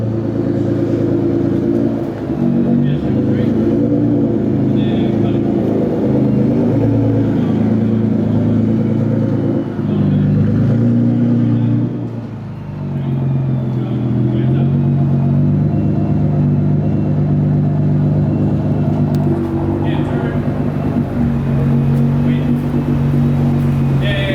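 A Nissan R35 GT-R Nismo Edition idles steadily with a deep, low rumble that holds throughout, briefly dipping once midway, while people talk nearby over the running engine.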